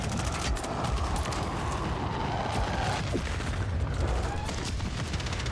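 Shotgun fire from a Spas-12 in Call of Duty zombies sounds as rapid, dense blasts layered over chaotic game noise, with a voice faintly present underneath.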